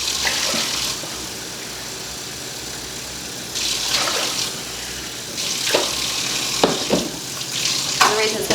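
Water runs steadily from a kitchen tap into a sink while rinsing, a close hiss broken by splashes and a few clinks of dishes.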